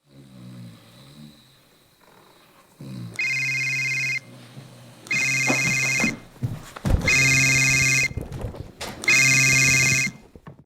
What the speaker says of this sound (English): he does in fact come across Joseph's phone, which all of a sudden starts ringing